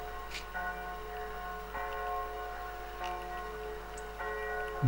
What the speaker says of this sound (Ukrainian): Чуємо в церкві Миколая дзвонять дзвони.